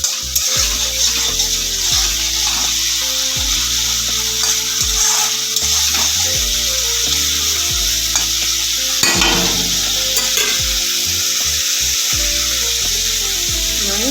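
Cooked-down spice paste for a light pomfret curry frying in a pan while being stirred, a loud, steady sizzle with repeated scraping strokes of the spoon across the pan throughout.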